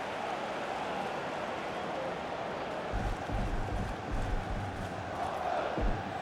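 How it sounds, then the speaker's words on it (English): In the EA FC football video game, a stadium crowd roars and surges, swelling louder in the second half of the moment beneath a commentator's voice. "Oh, the crowd were up on their feet there."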